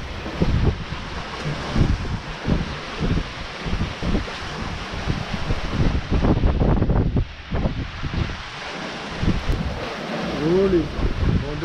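Wind gusts roar across a sailboat at sea off the Italian coast, buffeting the microphone in heavy bursts with a rushing, wave-like wash beneath and a brief faint tonal whine near the end.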